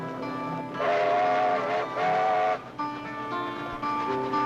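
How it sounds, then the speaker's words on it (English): A train whistle gives two sustained blasts, followed by a lower, softer tone, steady and moderately loud against a faint rumbling background. "A distant blast of the whistle could be the call of destiny"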